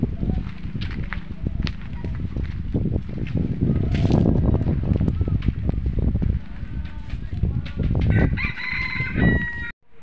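A rooster crows over clucking chickens, with wind and a voice talking in the background; the crowing is clear and fairly close.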